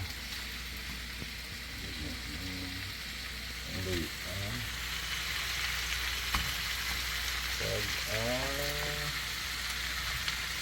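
Ingredients for Filipino dinuguan, a pork blood stew, sizzling steadily in a hot pan with a constant close frying hiss, while a voice speaks in short bursts over it.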